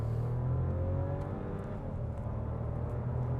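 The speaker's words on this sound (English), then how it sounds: "Excuse me here while I give a bit of a 3-cylinder sauce." Skoda Kamiq's small 3-cylinder engine pulls hard under acceleration, a steady, close droning rev with a low rumbling tone that holds evenly throughout, with no voices.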